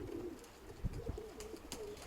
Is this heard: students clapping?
no